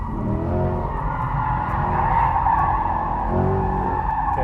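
A 2024 Corvette E-Ray hybrid AWD sports car skids and understeers at high speed, its tires howling in one loud, sustained squeal over a steady engine roar for the whole stretch, with no talking.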